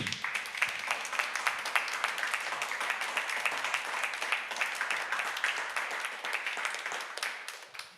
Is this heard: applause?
yes